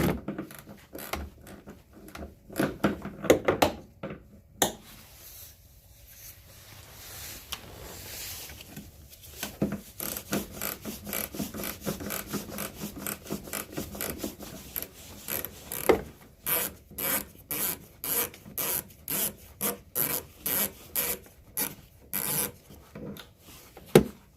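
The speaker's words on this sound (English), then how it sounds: "there's actually another nut right here, which is a 17 mil. So I'm just gonna back that off." Wrench work loosening a 17 mm nut on the rear shock of a Ford Escape, heard as steady rasping and ratcheting clicks, with fast rhythmic bursts in the second half, close up and without talk.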